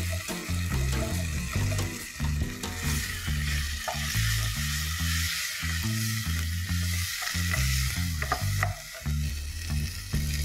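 Green chilies, ginger-garlic paste and chopped spring onions sizzle loudly in a pan, a spoon scraping and stirring in an uneven rhythm throughout, close and continuous.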